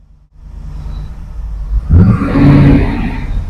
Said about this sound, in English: I think it has got the V8 in it. It certainly likes that.